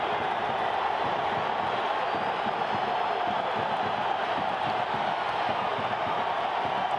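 A football stadium crowd in a World Cup qualifier roars steadily after Guatemala's equalizer against the Dominican Republic, a dense, continuous wash of cheering held at even loudness throughout.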